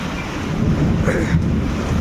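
Rumbling thunder during steady rainfall, a close, loud low roll sustained for a couple of seconds over the wash of rain.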